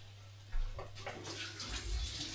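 Tap water runs and splashes as a lemon is washed, a steady soft stream with a low hum in the background, fairly faint and with no talk.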